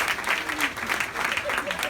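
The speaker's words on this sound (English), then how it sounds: "please give her a huge round of applause" Audience applause for a performer named Kelly, a steady burst of many clapping hands filling the room at close range, with a voice speaking over it.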